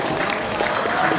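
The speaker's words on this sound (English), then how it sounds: "Give applause for Mr." An audience applauds a speaker named Daniel Tong at an event: a dense, continuous wash of clapping from many hands fills the brief moment, loud and steady throughout.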